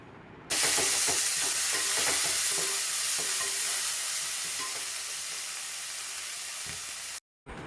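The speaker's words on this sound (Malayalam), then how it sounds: "വെളിച്ചെണ്ണ ഒഴിച്ച് വഴറ്റിക്കൊണ്ടിരിക്കുകയാണ്" Crushed garlic and shallots sautéing in coconut oil give a loud, close, continuous sizzle with frequent stirring scrapes, easing slightly over several seconds before cutting off abruptly.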